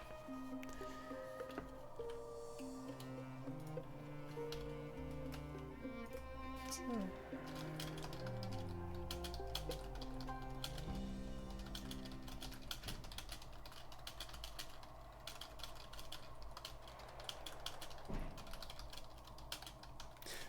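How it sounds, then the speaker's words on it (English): Rapid typing on a computer keyboard, a quick stream of soft clicks and taps, plays quietly and continuously alongside sustained tonal background sounds. "But I know some of you have heard me when I'm busy typing."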